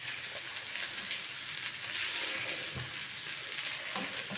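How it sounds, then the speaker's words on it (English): Tomatoes frying for omena, the small dried fish dish, give a loud, steady close-up sizzle with faint stirring clicks, no voices. "You want to add in tomatoes."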